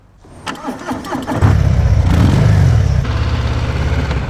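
Harley-Davidson FXDR motorcycle engine starting: a brief starter crank, then the engine catches and settles into a loud, deep, throbbing idle close by.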